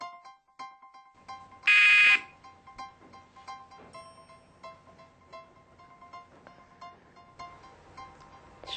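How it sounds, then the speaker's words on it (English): A quiz buzzer gives one loud electronic blast of about half a second, clearly louder than the quiet room tones and faint beeps around it. "We'll start at the sound of the buzzer."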